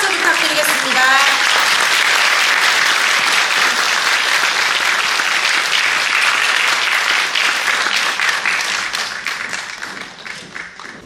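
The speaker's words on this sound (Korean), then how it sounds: "다시 한번 큰 박수 부탁드리겠습니다." Sustained loud applause from a large audience at a policy discussion forum, dense clapping throughout that gradually thins and fades toward the end.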